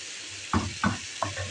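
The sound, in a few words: potatoes frying in a pan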